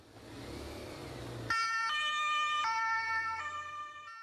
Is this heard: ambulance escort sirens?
yes